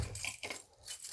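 Keys hanging up inside an RV give off a brief, faint jingle of light metallic clinks that comes and goes within about a second.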